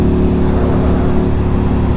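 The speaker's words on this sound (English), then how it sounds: "Just showing off this exhaust." An Indian FTR 1200 motorcycle with a carbon exhaust revs hard and continuously, its loud, steady engine drone rumbling close up with no one talking over it.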